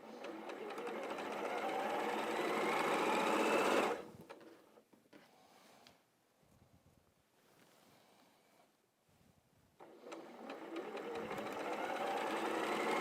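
A sewing machine stitches a quilt block in two rapid, whirring bursts, one at the start and one at the end, separated by a few seconds of quiet handling and soft rustling of fabric.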